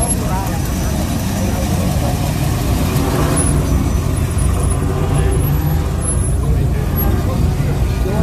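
Ford Mustang Shelby GT350 engine running at a car meet, a loud steady rumble close by mixed with crowd noise and people talking nearby.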